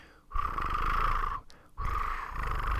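A low, throaty purring trill made by a human voice imitating a quail call, two sustained rolling bursts separated by a short breath.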